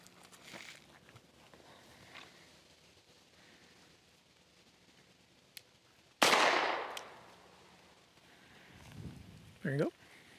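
A single sharp handgun shot rings out at a shooting range during draw and sight-picture practice, loud and close with a brief decaying tail, amid faint ambient noise, a small click and a voice briefly afterward.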